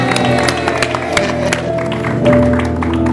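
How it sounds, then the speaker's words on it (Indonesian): Studio audience on an Indonesian talk show gives a guest a round of applause, with scattered claps over a steady tonal music bed and a faint murmur of voices. "Kita kasih tepuk tangan"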